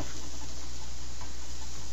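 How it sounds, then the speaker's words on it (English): Ingredients sizzle steadily in a pan over a pop can camping stove, a continuous close crackling hiss with faint ticking and no talk. "It's already sizzling."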